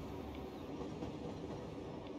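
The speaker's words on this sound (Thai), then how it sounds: "รถไฟก็มาแล้วรถไฟก็ไปแล้ว" A train rumbles past in the city-building game Cities: Skylines, a steady low rolling clatter of rail wagons that holds an even level throughout, with no talking over it.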